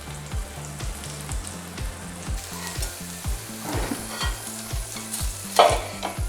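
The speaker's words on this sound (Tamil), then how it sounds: "இந்த மாதிரி தவாவில் போட்டு நம்ம கொஞ்சமாக எண்ணெயை ஊற்றி ஃப்ரை பண்ணாலே நல்லா ஃப்ரை ஆகிடும்." Steady sizzle of paneer frying in a little oil on a tawa, with a rhythmic, repeated scraping and stirring clatter throughout, close and moderately loud, with no voices.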